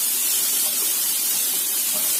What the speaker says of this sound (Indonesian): Kita tumis sampai matang ya